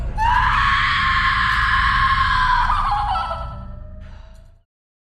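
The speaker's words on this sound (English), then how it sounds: "a blood-curdling scream echoed through the hallway" A loud, piercing scream rings down a school hallway, sustained at full intensity for about three seconds before fading and trailing off with a reverberant tail.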